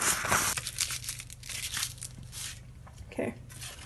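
A sheet of 100-grit sandpaper crinkles and crunches as it is folded in half, a close, brief scratchy rustle with a couple of sharper creases.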